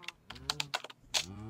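Cattle on a video game cow farm low in a survival game give faint, drawn-out moos beneath a run of close, clicky computer keyboard typing.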